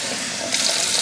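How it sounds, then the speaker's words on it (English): Water runs steadily from a kitchen sink tap, a continuous broadband hiss that grows louder and brighter about halfway through as the flow increases, with no talking. "We're going to bring them over to the sink. Get that water going."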